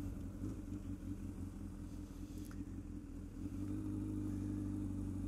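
A Honda CBR1000RR motorcycle engine rumbles steadily while riding, low and continuous, with the pitch rising a little as it accelerates toward the end.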